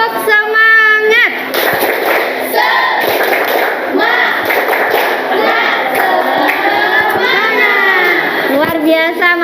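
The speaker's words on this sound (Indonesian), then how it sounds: "Yuk, kita tepuk semangat dulu." A classroom of children performs the tepuk semangat clapping chant, voices loudly chanting together in rhythm with crisp group claps and thuds, close and energetic throughout.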